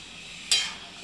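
Ground masala being stirred into a sprout curry in a pan, a brief scrape followed by a short burst of sizzle that fades under a low steady background hiss.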